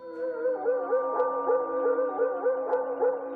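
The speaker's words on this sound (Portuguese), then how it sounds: "Latidos, distantes, abafados pela mata, mas inconfundíveis" Dogs bark and yelp in the woods, a tonal, rhythmic run of yips and whining howls repeating about twice a second, steady and fairly clear rather than far off, with no other sound around them.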